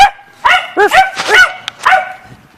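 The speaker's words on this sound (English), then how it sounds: "Oh, Sasha's here. The dog." Excited dog barking indoors, a string of several close, loud barks and yips in uneven bursts with short whimpery gaps, no talking over it.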